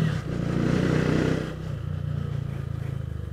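A new motorbike ridden through town with a passenger, its engine rumbling loud and close, steady at first and then pulsing more unevenly as it rides on.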